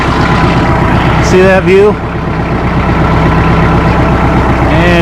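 An Oliver 770 tractor idles with a close, rumbling low chug while hauling hay, and a person speaks briefly over the engine.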